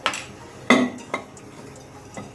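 Salt and turmeric being mixed into fish in a dish give a few sharp, close clinks and scrapes of utensil against the dish, spaced irregularly with quiet gaps between.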